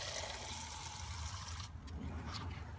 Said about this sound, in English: Grab your cup. Start draining the fuel